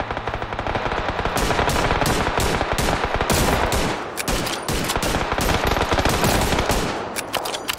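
Loud, sustained automatic gunfire in PUBG, with rapid bursts of shots in a dense, near-continuous fusillade lasting several seconds and no voices.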